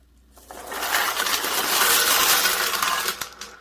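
Cheap discount-store glass rhinestones cracking and fracturing as they are poured into ice water, giving a dense burst of crackling, tinkling snaps that swells within a second and holds loud for several seconds before easing off.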